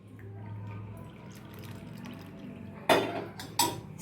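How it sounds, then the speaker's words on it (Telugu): Clove water, boiled with clove powder, being strained for a children's home cold remedy: a steady low pour runs under the kitchen background, then two sharp clinks of a vessel or strainer near the end. "సో ఈ వాటర్ని ఇప్పుడు నేను స్ట్రెయిన్ చేస్తానండి"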